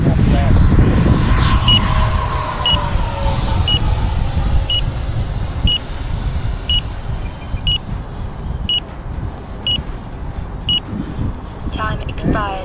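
Radio-controlled Sabre model aircraft flying in a trio flight, a steady engine drone with a passing whine shifting in pitch, accompanied by regular electronic beeps from a timer or transmitter, people talking nearby.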